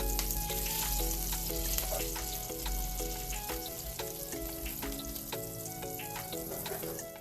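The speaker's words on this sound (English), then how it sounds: "So we're just gonna let this melt in with our oil." Butter melting into hot oil in a pan, a steady close sizzle and crackle running continuously with no talking, while faint tonal music plays underneath.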